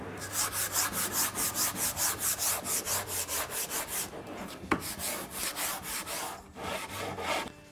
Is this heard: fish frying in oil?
no